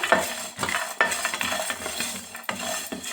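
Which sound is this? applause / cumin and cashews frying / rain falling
cumin and cashews frying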